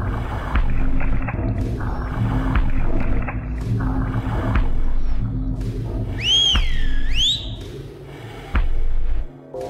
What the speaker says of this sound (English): Buddy's still not answering my whistles.